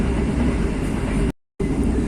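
Ranggajati passenger train running on rails near Wonokromo, a steady loud rumble of wheels and carriage noise heard from on board, briefly cut by a short gap of silence before the rumble resumes.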